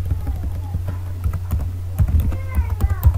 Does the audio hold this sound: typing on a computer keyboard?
yes